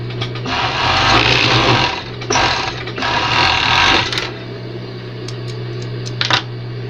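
An overlock serger stitches a piece of denim, running in loud sustained bursts of rapid mechanical whirring with brief pauses between runs, then winding down to a quieter hum with a few light clicks at the end.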